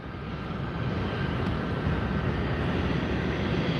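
A Delta jet airliner at Fort Lauderdale airport gives off a steady, loud engine roar with broad rumbling noise that holds evenly throughout, no voices over it.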